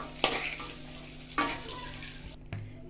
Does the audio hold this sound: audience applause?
no